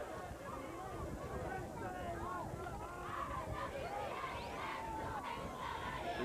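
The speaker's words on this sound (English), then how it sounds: "The crowd is filling up on both sides." Large crowd at a 1988 high school varsity football playoff game between Port Richmond and Wagner, a steady dense roar of shouting and cheering voices throughout, with a commentator talking over it.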